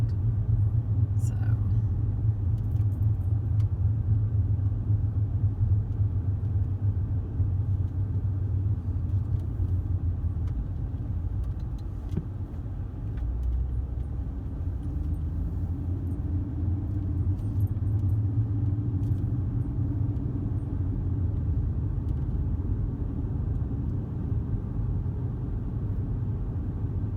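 Car driving up to a neighborhood entrance toward an amenity center, a steady low rumble of engine and tire noise throughout, with faint jingling and a voice talking softly over it.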